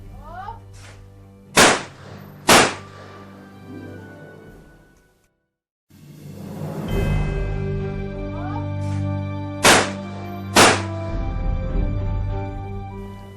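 Fausti shotguns fire at an outdoor range: four loud, sharp blasts come in two quick pairs, each with a short echo, over a steady musical bed.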